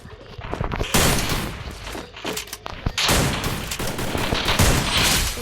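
Rapid video-game gunfire, including blasts from an M590 shotgun, comes in loud, dense bursts that nearly fill the whole stretch, with only a short lull between volleys.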